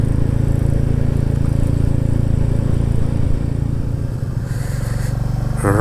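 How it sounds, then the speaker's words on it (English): A Royal Enfield Classic 350 motorcycle engine runs on overrun with the throttle closed, giving a steady low burble and rumble that stays loud and close, mixed with road and wind noise. "the sound of this gorgeous engine when the throttle's closed"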